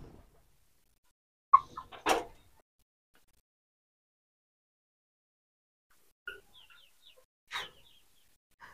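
Two short bursts of native laying hens clucking on a farm, a few seconds apart, with silence between them and quiet surroundings.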